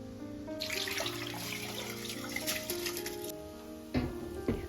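Tap water runs into a sink as rice is washed, a steady close splash with brief clinks and sloshes of grains being rinsed toward the end.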